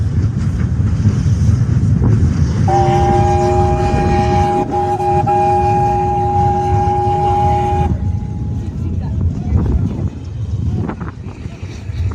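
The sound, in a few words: heritage steam train starting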